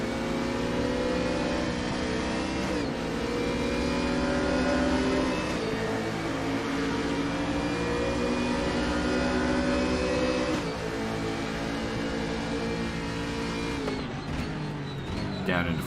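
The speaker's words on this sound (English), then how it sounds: "Down into fourth gear for this first turn, and then down into third for the second part of it." Race car engine in a racing video game at Suzuka, droning loud and steady with pitch drops as it downshifts through fourth and third gear into the turns, with a commentator talking over it throughout.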